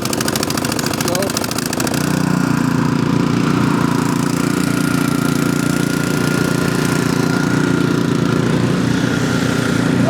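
A snow blower engine in a blizzard sputters at first, then settles into a loud, steady mechanical drone close by. Voices can be heard under the engine noise.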